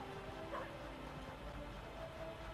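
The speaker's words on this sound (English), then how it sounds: "The dog!" A dog in the Chicken Run PS1 video game gives a few faint, short barks and yips over a low steady hum of game ambience.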